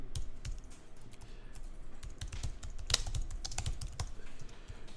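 Fast typing on a computer keyboard as a folder name is entered, a steady run of close, crisp key clicks with a louder tap near the middle, heard alone without talk.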